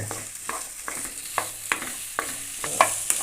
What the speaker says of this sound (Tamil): இப்போ வெங்காயத்தை நல்லா வதக்கிக்கலாம் நல்லா வதக்கிங்க